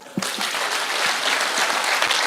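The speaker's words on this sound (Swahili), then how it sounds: "So mnipigia makofi." Audience applause at an outdoor security forum in Kisumu County, Kenya: dense, steady clapping from a large crowd that starts abruptly and carries on evenly, with a few louder claps standing out.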